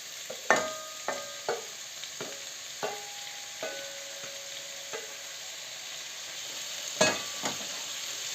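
Chopped carrot fries alongside onion and meat in a pan for a Hutsul roast, a soft sizzle under repeated sharp utensil knocks and stirring clinks, close and without speech.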